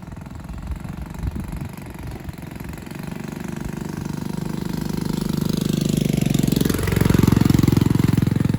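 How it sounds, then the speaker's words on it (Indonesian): Klotok boat engines rumble and chug on the water at Pulau Sewangi, a steady low throbbing that swells louder as a boat draws near and passes close, the pitch dipping around the pass, with no talking. "Di sini tuh kita dengar suara kapal gemuruh mesin yang lalu lalang, suara kelotok"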